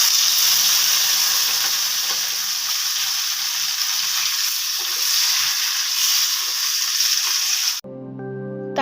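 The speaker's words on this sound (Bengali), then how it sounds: "কড়াই গরম করে দিয়ে দিলাম 1 চামচ ঘি।" A spoonful of ghee sizzles loudly in a hot kadai while cooking matar paneer, a steady bright hiss that holds for most of the span before cutting off abruptly near the end.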